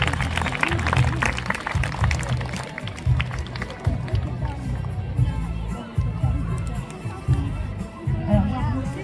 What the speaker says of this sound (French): Ok, on va pouvoir l'applaudir.